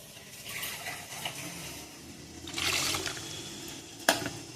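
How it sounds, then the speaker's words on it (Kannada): Water splashes into a pan of Udupi-style fish pulimunchi curry in short gushing bursts, with a brief metallic clink near the end, fairly quiet and close. "ಸ್ವಲ್ಪ ನೀರು ಹಾಕ್ತೀನಿ."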